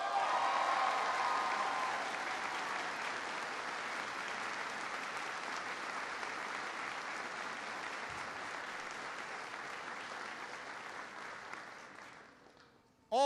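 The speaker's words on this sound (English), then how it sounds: "Give Ambassador Kim a big round of applause." An audience at a US Army base gives Ambassador Kim a long round of applause, a broad, even wash of clapping that starts strong, settles into a steady patter and tapers off at the end.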